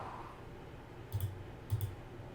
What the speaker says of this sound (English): do a control click